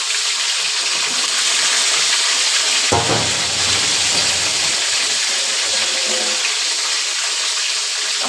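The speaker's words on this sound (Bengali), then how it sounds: "আমি এবার যে লেগ পিসগুলো রাখছিলাম ওইগুলো আমি একে একে ভেজে নেব।" Chicken leg pieces frying in hot oil for a golden chicken biryani, a steady broadband sizzle that swells sharply near the middle as a piece drops in, then crackles on close and loud without any talk.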